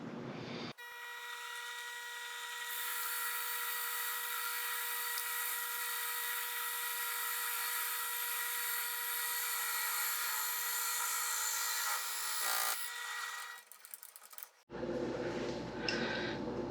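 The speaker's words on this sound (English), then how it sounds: "we'll start working on boring out this piece of the skateboard deck to fit this guy" Drill boring into a skateboard deck with a 24mm Forstner bit: a sustained high-pitched whine with strong steady tones runs for about twelve seconds, then wavers and cuts off as the bit finishes, leaving rougher handling noise.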